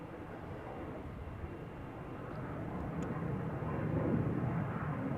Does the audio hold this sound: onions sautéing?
no